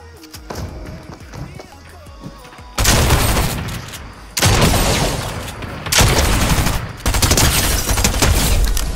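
Grenade explosions and heavy gunfire in the game Fortnite come as several loud, sustained bursts of booming and rapid shots, separated by brief quieter gaps, with voices heard in between.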